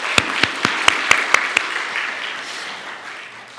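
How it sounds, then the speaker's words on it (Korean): A Korean church congregation applauds during Sunday worship after a praise-team song, a broad wash of clapping with several sharp, close claps early on, gradually fading toward the end. "우리 하나님께 감사와 영광의 박수 올려드리겠습니다."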